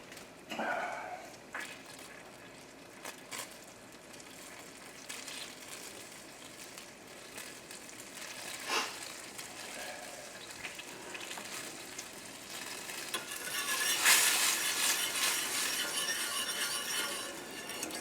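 Sauce for coconut fried shrimp simmering in a pan, a soft bubbling sizzle with occasional pops and clinks, growing louder near the end as the flame is raised.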